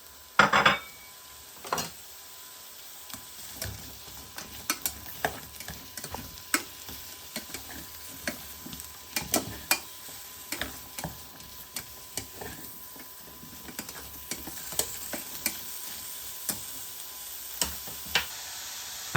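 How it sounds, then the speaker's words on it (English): Sliced mushrooms fry in oil in an oven-proof pan, giving a soft steady sizzle broken by frequent sharp clicks and scrapes of a utensil stirring against the pan, close and with no voices. "Fry the sliced mushrooms for 3 minutes."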